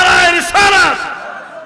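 A large religious gathering roars back a loud, unified chant in answer to the Naraye Takbir slogan, two swelling bursts of massed voices that fade quickly.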